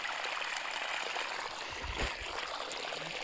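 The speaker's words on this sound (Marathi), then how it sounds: "पाणी चालू करून दिलं. चाललं पाणी आता तिकडं खळं." Irrigation water flows through a farm field of fenugreek, a quiet, continuous rushing trickle with small splashes, steady throughout and without talking.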